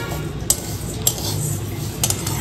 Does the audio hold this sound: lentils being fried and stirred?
yes